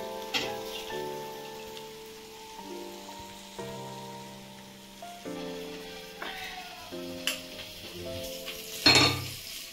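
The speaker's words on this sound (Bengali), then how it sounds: "এভাবে আমি সব মাছগুলোকে ভেজে তুলে নিলাম।" Parshe mullet frying in a pan of hot oil, a steady crackling sizzle that runs through the whole stretch beneath tonal background music, with a brief louder burst of spattering near the end.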